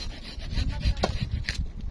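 A sharp hand saw cuts through a solid log of firewood outdoors, giving a steady rasping, rubbing rhythm of close strokes that stays up front throughout.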